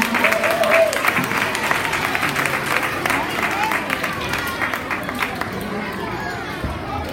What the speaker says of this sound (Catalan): Molt bé, Jana, un fort aplaudiment.